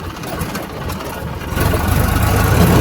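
A tractor engine rumbles steadily at close range in a village field, its low drone growing louder and rougher about halfway through as the revs climb.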